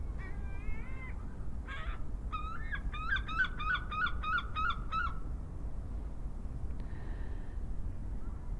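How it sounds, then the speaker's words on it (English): Seagulls on Blackpool promenade squawk in a quick run of sharp, repeated calls, a short series near the middle with a few single cries around it, over a low hum of traffic. "you can hear the seagulls squawking at times,"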